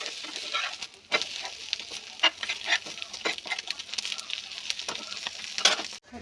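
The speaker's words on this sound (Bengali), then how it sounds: "ওভেনে ডিমটাকে ভেজে নেবো" An egg fries in an oven, giving a steady close crackling sizzle with scattered sharp pops and spits throughout.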